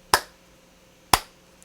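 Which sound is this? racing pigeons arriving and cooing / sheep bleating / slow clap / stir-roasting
slow clap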